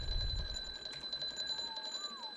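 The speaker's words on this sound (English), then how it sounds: "Oh man, the alarm, it's sounding!" A sound alarm trap in Ark: Survival Evolved keeps ringing with steady high tones, quiet and continuous, with a brief low thud at the start and a faint rising-falling whistle near the end.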